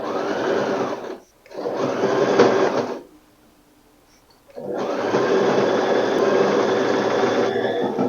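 A sewing machine bastes along a ruffle shift dress in steady stitching runs, one short burst and two longer passes broken by brief quiet pauses, heard up close.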